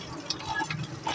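Raw chicken is washed in cold spring water outdoors: a brief, soft burst of close splashing and trickling water.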